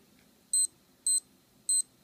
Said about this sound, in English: this model have a really strong alarm